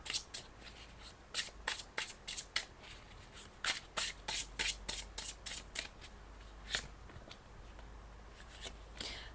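Tarot cards are shuffled up close in quick bursts of crisp riffling clicks, rapid at first and then thinning to a few scattered flicks, with no voice heard.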